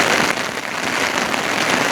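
Heavy rain pours during a hill ridge walk, a loud continuous hiss of drops drumming on surfaces and likely an umbrella, close and unbroken with no voices.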